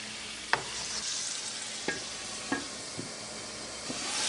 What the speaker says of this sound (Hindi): इसमें चिकन डाल के पका लेते हैं